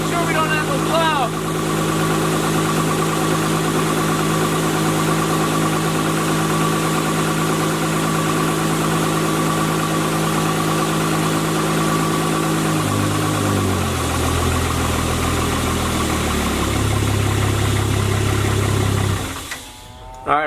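A Spartan Warrior hydro jetter's engine running steadily at around 2,200 RPM, a loud continuous drone that shifts pitch downward near the end before cutting off abruptly.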